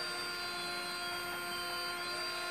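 A Tesla Model 3 drive unit electric motor spinning slowly on a bench on about 60 volts of battery through a Prius inverter, giving a steady, even whine with several layered tonal hums that hold constant throughout, without speech.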